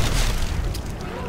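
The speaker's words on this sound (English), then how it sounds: "We have a button I press to throw grenade." A grenade blast in a custom zombies map of a video game gives a heavy, loud boom that fills the short span, rumbling low and fading slightly, with a voice faintly present beneath.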